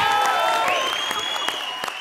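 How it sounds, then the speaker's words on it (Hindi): Loud applause from a studio audience at a Comedy Circus taping, dense and steady clapping with scattered sharp claps throughout the short stretch. "जोरदार ताली"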